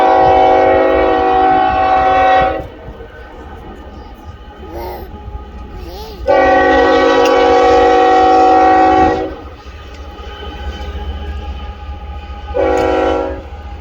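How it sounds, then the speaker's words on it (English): A long train rolls close past near Soda Springs, Idaho, its loud horn sounding in three sustained blasts with rumbling rail noise between them. "Here comes the latest train."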